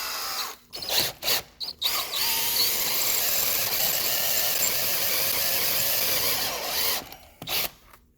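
A spear-type carbide bit drills into a locking wheel nut on a Fiat 500, a steady loud whining grind that runs for several seconds, with short stop-start bursts at the beginning and end.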